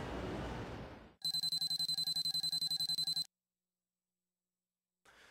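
A telephone rings with a loud electronic trill in one long burst of rapid pulses, after a stretch of broadband noise, then a short silence and a brief return of the ringing at the end.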